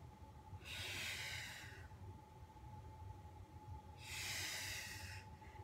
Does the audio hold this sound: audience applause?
no